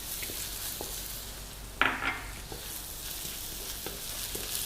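Fresh red chilies hitting a pan of sautéing garlic produce a steady, close sizzle, with a sharp louder burst of hissing as they go in and a few light stirring scrapes.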